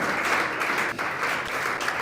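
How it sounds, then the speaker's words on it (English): A crowd at a college AI and robotics center launch event claps in a steady, dense burst, many hands together sustaining an even roar of applause for a couple of seconds. "A round of applause for him. Yes, a resounding applause for him."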